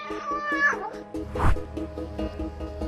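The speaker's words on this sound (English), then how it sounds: "a cat got disturbed by two boys who are playing football at the field" A cat disturbed on a football field lets out a loud, wavering meow near the start. A second strained cry follows, over a repeating rhythmic background and some low thumps.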